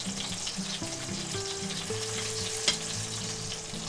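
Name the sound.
chuck eye steak searing in a pan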